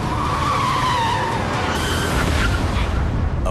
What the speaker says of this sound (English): just yards from a collision, the automatic braking system kicks in